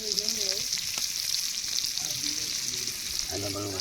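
Chicken pieces fry in a pan for a kauli chicken fry, a steady close sizzle of hot oil running throughout, with stirring noises and a few brief voices talking underneath.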